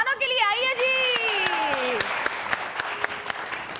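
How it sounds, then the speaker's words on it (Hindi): A studio audience applauds three guests on a television show. Sharp individual claps sound close and a steady patter of clapping runs underneath, while a voice speaks over the start of the applause. "बहुत सारी तालियां हम हमारे तीनों मेहमानों के लिए आई है जी"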